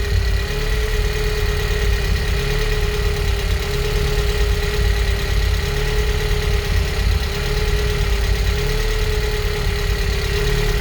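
A Vauxhall Astra GSi car engine idles roughly and unevenly at close range, with a steady lumpy drone that runs alone with no talk throughout.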